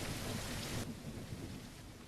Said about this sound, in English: I think this particular storm gets very loud.